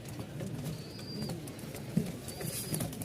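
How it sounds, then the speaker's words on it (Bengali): Fancy pigeons coo close by in low, throaty rolling murmurs over a steady soft background, with a couple of faint higher whistles and no speech. "অনেক দিন পর এক জোড়া কবুতর নিয়ে আসছি"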